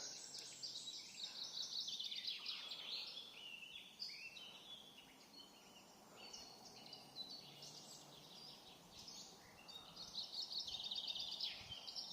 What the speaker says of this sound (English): Listen to that bird song.